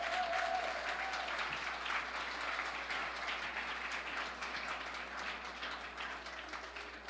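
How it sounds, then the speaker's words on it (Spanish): A church congregation claps in sustained applause during a sermon, a dense steady wash of hands that carries on for several seconds and eases slightly toward the end. "Dale un aplauso al Señor, dale un aplauso"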